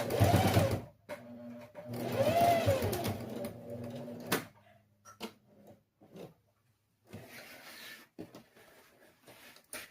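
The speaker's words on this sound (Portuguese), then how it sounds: "você precisa fazer esta costurinha aqui" A sewing machine stitches a fabric pencil case in several short, close runs separated by pauses, with light handling clicks and fabric rustle between the bursts.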